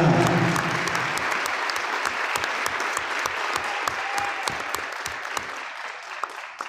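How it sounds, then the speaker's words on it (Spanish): Applause from the audience at a union education congress in Cutral Có, a dense wash of clapping with distinct sharp claps, steady and fairly close, tapering off at the end. "por quien pido un fuerte aplauso"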